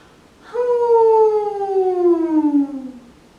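A single sustained hummed nasal NG tone with a soft breathy H onset, sighed and sliding slowly downward in pitch over about three seconds, heard alone.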